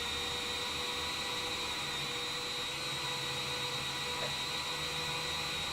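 A Boeing 787 engine spins up during a simulated start in Microsoft Flight Simulator 2020, a steady whining, rushing hum that holds evenly throughout without speech.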